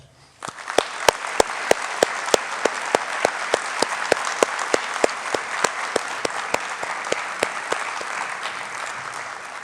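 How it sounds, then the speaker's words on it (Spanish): Applause from a graduation ceremony audience, sustained, steady clapping from a large crowd lasting several seconds, with sharp regular click-like accents punctuating the wash of hands. "Para todas estas extraordinarias personas les pido un aplauso."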